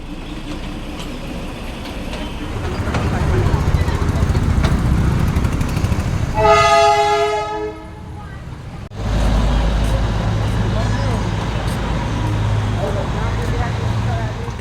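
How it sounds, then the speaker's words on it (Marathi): A Darjeeling train at its hill-town station sounds a single drawn-out horn blast of about a second and a half, rising above a steady wash of street bustle and background voices. "हे आहे ट्रेन"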